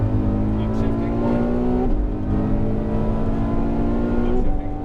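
Ferrari F12 at Dream Racing track revs hard through a gear, with a quick dip at an upshift and the engine note climbing again, loud and close, a voice talking over it.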